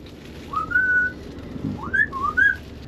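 Someone whistles in short melodic phrases: a long rising note, then quick sliding and warbling notes, close and clear over a low background hum.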